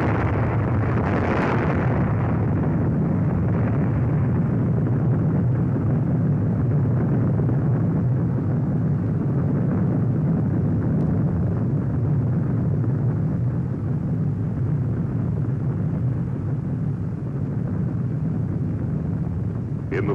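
A nuclear bomb blast on archival film, dropped from a bomber, comes as a deep sustained roar that swells early and then rumbles on for many seconds, loud and unbroken.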